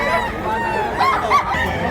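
Rooster crowing at a busy chicken market in Mantalungon, Cebu, a couple of crows rising over steady crowd chatter and the clucking of many fowl.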